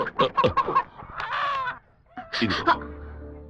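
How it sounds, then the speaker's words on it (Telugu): A chicken clucks and squawks in a film scene where people try to catch it. Quick bursts of close, agitated calls are followed by a longer squawk, with a short pause before more calls. "కోడిని చూసి పట్టుకో"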